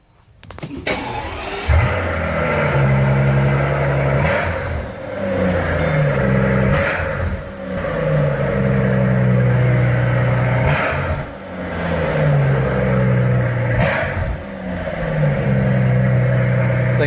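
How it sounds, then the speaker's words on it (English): A Miata-based car engine cold starts with a sharp crank, then settles into a loud idle punctuated by several repeated revs rising and falling over roughly fifteen seconds, recorded close with no talk. "cold start this thing and rev it a little bit"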